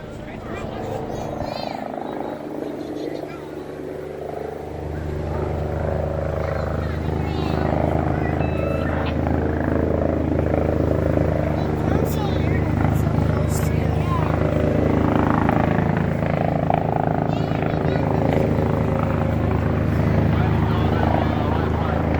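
A helicopter hovers as it comes in to land at a fire department open house, a steady low rotor drone that swells louder about five seconds in and stays loud and close, with people talking over it.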